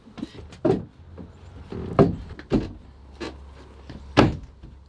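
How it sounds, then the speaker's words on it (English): Knuckles knock on the body of a van during a bunk window installation and wall framing job, giving several separate hollow thumps spaced irregularly over a few seconds, close and fairly loud, with no talking. "It's just me knocking."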